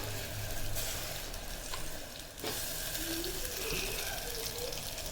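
A masala of ground dal, cumin and pepper sautés in sesame oil for a kongu-style manathakkali keerai kulambu, giving a steady, close sizzling hiss throughout with a few faint stirring sounds.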